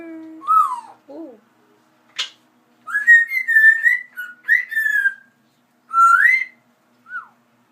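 A pet bird whistles nearby in a series of clear, separate rising and falling whistle phrases with short gaps between them, plus one brief sharp chirp, with no other sounds behind it.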